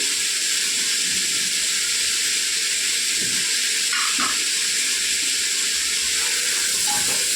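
Curry leaves fry in hot oil in a pan for vegetable fried rice, giving a steady loud hiss and sizzle throughout with a few brief crackles.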